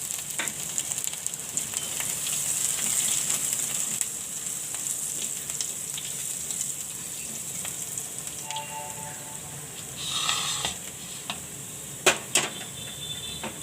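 Green chili, ginger and asafoetida sizzle in hot oil for jeera potatoes: a steady, moderately loud crackling hiss throughout, with a few sharper pops near the end.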